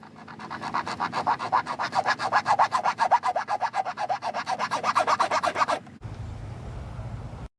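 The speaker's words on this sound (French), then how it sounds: "on va prendre notre petite lime ronde et on va venir commencer à creuser le trou" A small round file rasps back and forth in a steady, rapid rhythm, cutting a notch into a PVC pipe bow limb, loud and close with even strokes, then stops abruptly into a low hum.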